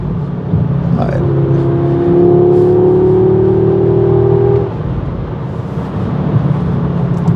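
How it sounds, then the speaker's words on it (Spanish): A close, steady engine drone comes from an Audi S3 Sportback under light mid-range acceleration. A rising whine holds for several seconds before the tone settles, and a few faint crackles from the exhaust can be heard. "Suelen aparecer los petardeos no en altas revoluciones, sino en pequeñas aceleraciones a medio régimen."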